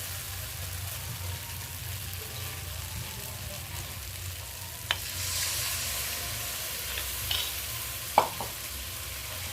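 Spice paste for Bengali telkoi (fish in oil) fries over low heat in a pan, a continuous soft sizzle with several sharp clinks and scrapes of stirring spread through the second half.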